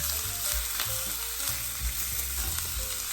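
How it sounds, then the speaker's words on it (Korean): Onions, potatoes and bacon stir-fry in a frying pan for a spinach frittata, giving a steady loud sizzle and crackle broken by rhythmic utensil scrapes, with no talking. "양파를 넣고 볶는다."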